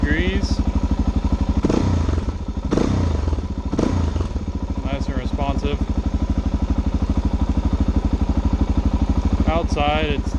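A Suzuki DRZ400S supermoto engine idles steadily at about 1400 RPM, a close, even single-cylinder chug running throughout, with a few clattering thumps and brief scrapes over it.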